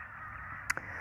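Crows caw in the distance below a hillside near an army base, two brief calls over a steady outdoor hum of background noise.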